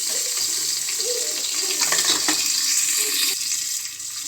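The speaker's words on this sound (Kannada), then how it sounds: "ಎಣ್ಣೆ ಕಾದಿದೆ ನಾನು ಈರುಳ್ಳಿನ ಸೇರಿಸ್ಕೊಳ್ತೀನಿ ಅದು ಎಣ್ಣೆ ಸಿಡಿಯುತ್ತೆ ಹಾಗಾಗಿ ಮುಚ್ಚಳ ಹಾಕಿದ್ದೀನಿ" Onions added to hot oil in a lidded pan, for an egg and avare bele sambar, give a loud continuous hiss and rush of spattering that stays up close and even throughout, then eases slightly at the end.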